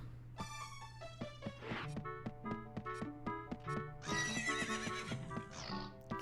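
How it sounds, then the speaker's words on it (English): Horses whinny repeatedly on a ranch with cows in The Legend of Zelda: Ocarina of Time, with several sharp, bright neighs and hoof clops following one another, clear and close. "We got cows and horses,"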